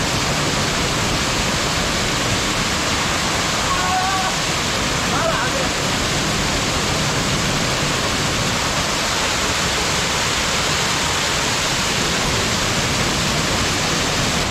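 Small waterfall pouring into a little pool in a forest stream, a loud, dense, unbroken roar of rushing water close by, with a faint voice barely audible beneath it.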